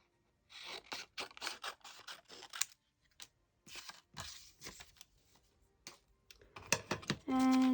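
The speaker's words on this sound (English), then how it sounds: "So again, just cut in half, cut diagonally." Scissors cut fabric or paper in half diagonally while a framed plague doctor Venetian masquerade mask is being crafted: a close run of crisp, irregular snips and rustles, with a steady tonal hum at the very end.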